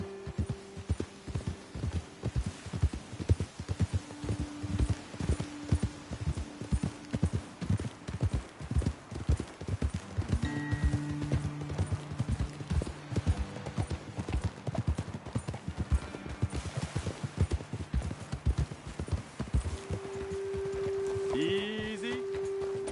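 Horses' hooves clip-clop steadily in Red Dead Redemption II, close and regular, with occasional whinnies and light rain, while voices talk over them.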